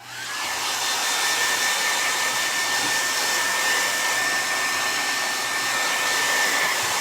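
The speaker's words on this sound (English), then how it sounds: "I'm going to hit this with a hairdryer really quick" Hair dryer blowing on furniture to dry a water-based glaze for a painted chinoiserie finish, a steady loud whooshing roar with a thin high whine that starts abruptly and runs unbroken, alone without talk.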